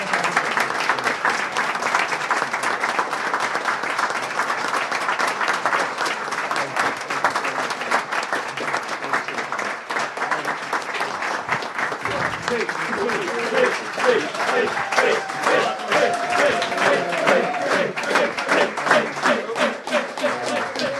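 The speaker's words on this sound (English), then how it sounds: "big round of applause for Chris for helping organise everything" An audience at a live interactive show for Setting Purple Sectors applauds for Chris, sustained dense clapping that runs the whole time, with a voice speaking over it partway through.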